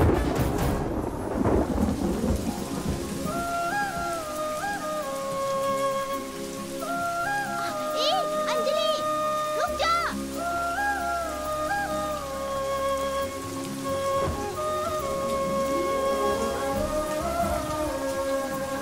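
Steady rain falls with rolling thunder in a romantic action film scene, a continuous hiss of drops running under a musical score for the whole stretch, with no talk.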